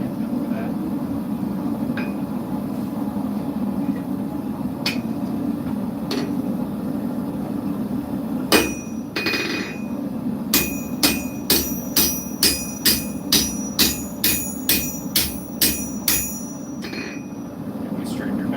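Hammer blows on a metal blade at the anvil during forging, first a few sparse ringing strikes, then a quick steady run of about a dozen sharp metallic clinks over low background rumble.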